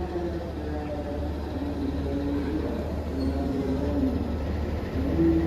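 Ballast train hauled by a 206 locomotive, passing near the KA Sri Tanjung economy train, gives a continuous low rumble with a steady tonal hum that swells slightly toward the end.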